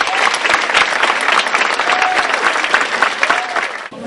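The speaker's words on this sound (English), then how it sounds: "Let's give another round of applause for the recipient." Audience clapping warmly at an awards banquet as a recipient is honored, a full, steady round of applause from a crowd in a hall with faint voices mixed in.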